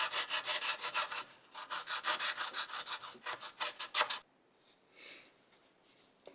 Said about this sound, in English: I'm just going to smooth off all this roughness that's in here.